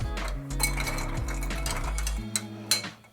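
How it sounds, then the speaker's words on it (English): A spoon clinks against a glass of cooled, sweetened Christmas-blend tea, making a few light, bright taps over a low background hum. "we'll give that a stir"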